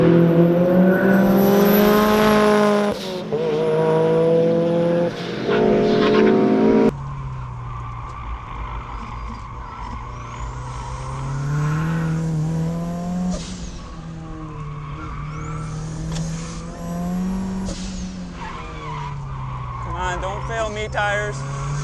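Turbocharged Mazda Miata on a race track, engine loudly accelerating through gears with sharp shifts and tire squeal through corners, heard from onboard with a driver talking.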